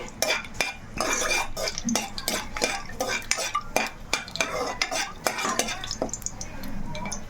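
Bay leaf and whole spices frying in a pan for boti curry, with a steady oil sizzle under brisk, repeated scrapes and clinks of a spoon stirring against the metal, close up and with no talking.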